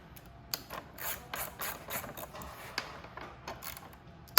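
A ratchet clicks in quick runs of metallic ticks as the headlight bolts on a Venom 2000W E-Vader electric motorcycle are loosened, close and fairly quiet, ending with a sharper clack.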